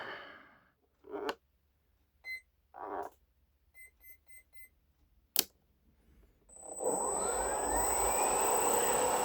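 Several short beeps and clicks as an RC plane's electric motor is calibrated, then the restrained motor with a flat T-shaped three-bladed propeller spins up and holds a steady high-pitched whine with a rushing hum.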